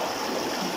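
Water spilling over an overflowing dam into a river pool makes a steady, broadband rushing wash, continuous and fairly loud throughout with no voices.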